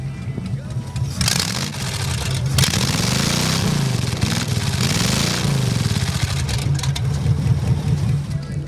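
A custom street rod tractor engine at the Pacific Coast Dream Machines show in 2014 fires up and runs with a loud, rough idle and surging revs, close by, while people talk over it.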